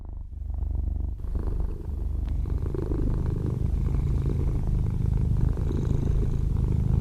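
A cat purrs steadily and close up, a low continuous rumbling vibration with a soft pulsing rhythm that carries on without pause.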